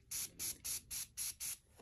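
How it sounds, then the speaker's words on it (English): Six quick spritzes from a spray bottle onto a paint-stained sweatshirt, evenly spaced hissy bursts, close and fairly quiet, with no talking. "I'm gonna try my spray here."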